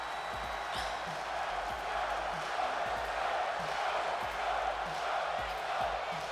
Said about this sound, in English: And listen to that crowd.